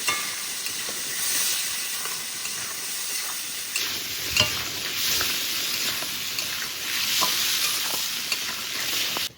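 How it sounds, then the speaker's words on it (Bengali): Potatoes frying in oil, with a constant close sizzle and hiss, while occasional stirring scrapes and clinks break through and the steam swells midway. "আলুটা একটু ভালো করে ভেজে নেব।"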